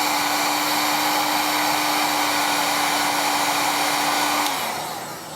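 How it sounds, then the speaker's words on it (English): A heat gun blows a steady, loud whoosh with a constant motor whine while shrinking cable sleeving, running alone until it switches off and winds down near the end. "I'm simply just grabbing the heat gun for this"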